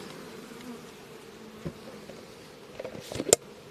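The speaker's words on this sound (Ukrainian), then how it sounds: "я струшую бджіл з однієї рамочки" Honey bees buzz in a low, steady drone close by, with a few sharp knocks and clicks near the end.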